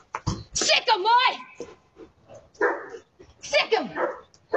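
A dog barks and yips sharply several times amid agitated, overlapping human voices, close and loud.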